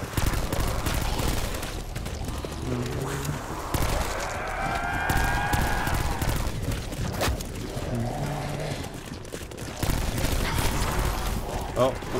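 Rapid RK7 gunfire from a Black Ops 4 zombies match, dense repeated bursts with other in-game effects and a rising tonal sound mid-clip, fairly loud and continuous throughout.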